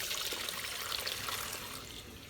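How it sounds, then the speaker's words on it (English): Warm soapy water poured into the drip tray of a drink dispenser, a steady hissing trickle and splash running without a break for a couple of seconds. "Warm soapy water you can pour into the drip tray"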